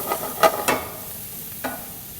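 Onions stirred while frying in a pan, soft background sizzle with a few distinct scraping stirs of a utensil, quiet and close.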